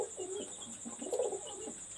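Pigeons of a high-flyer breed coo softly in repeated low throaty phrases, fairly close, over a steady high background hiss.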